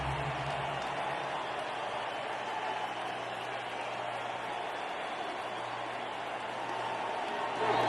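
Baseball crowd at NLCS Game 3, Braves at Dodgers in Los Angeles, roaring steadily as fans stand in the first inning, a dense, even wash of cheering that holds for the whole stretch and swells slightly at the end.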